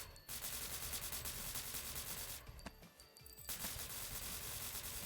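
Continuous loud automatic weapon fire in the shooter game NIMRODS, a dense unbroken stream of rapid shots with one brief pause in the middle.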